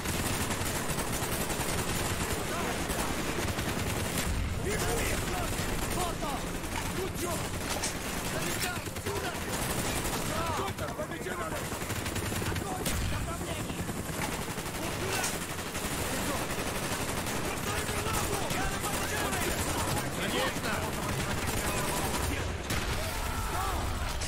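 Gunfire from the video game Call of Duty: Black Ops, with dense, continuous shooting and machine-gun bursts filling the whole stretch at steady loudness, mixed with other game sounds and voices.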